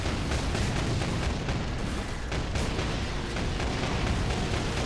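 Autocannon held on full-auto in the Warhammer 40,000 Space Marine video game: a sustained, loud stream of rapid booming shots and explosions, unbroken for several seconds, no voices.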